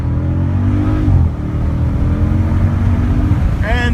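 A Jeep Grand Cherokee SRT Trackhawk accelerating hard from 0 to 60, loud steady engine roar that rises in pitch, with a shift or dip partway through, heard from inside the vehicle.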